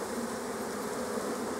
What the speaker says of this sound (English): you can thump all those bees on the ground and then get rid of them on the bit of timber